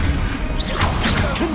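A Bombarda blasting spell hits in Hogwarts Legacy, a loud crashing impact with swirling whooshes and magical tones over a steady rumbling bed, close and brief.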